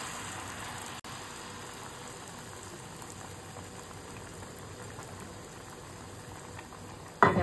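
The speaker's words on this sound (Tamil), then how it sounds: "டிப் பண்ணி எடுத்து அப்படியே எண்ணெயில் போடணும்." Batter-dipped nendran banana slices for Kerala pazham pori fry in oil with an even, bubbling hiss throughout, ending in a sudden louder clatter.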